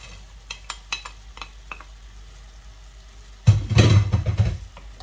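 Liver and peas stirred in a hot frying pan: a few light utensil clicks against the pan, then a loud burst of sizzling frying and scraping as the peas are stirred in.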